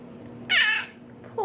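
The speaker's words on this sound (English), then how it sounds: "Poor kitty, did Ginger steal your bed?" A cat gives a single short, loud meow-like cry in a quiet room, followed by a brief fainter sound at the end.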